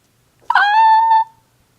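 A cat named Scrappy Cat lets out a single clear, drawn-out meow, loud and close against an otherwise silent room.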